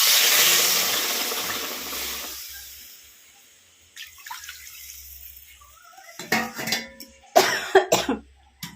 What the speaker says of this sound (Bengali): এবার গরম জলটা অ্যাড করে দেবো।